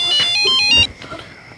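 Phone ringtone chirping loudly for under a second in a tight electronic melody, then cutting off into a murmur of background voices.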